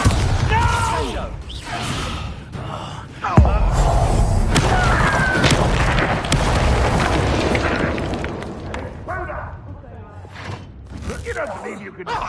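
A Bombarda explosion spell cast in Hogwarts Legacy, a heavy booming blast set in dense, continuous combat noise with rumbling impacts and thuds, while a voice shouts over the fighting.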